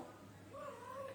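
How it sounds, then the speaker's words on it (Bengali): A single faint cat meow, drawn out and rising then falling, heard from a little distance in a quiet room. "আমার বিড়ালটা কান্না করতেছে।"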